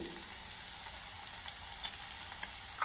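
Beaten egg with pepper and salt sizzles softly in a pan while being stirred, a fairly quiet, continuous crackle with a few light scrapes.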